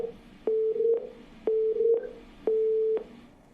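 A repeating telephone line tone after a call drops: three steady beeps about half a second each, evenly spaced with short gaps, clear and alone with no voices.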